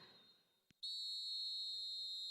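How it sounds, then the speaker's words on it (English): A referee blows a single long, piercing full-time whistle in the eFootball Mobile video game, sounding loud and steady after a short quiet stretch and holding to the end. "There is the full-time whistle"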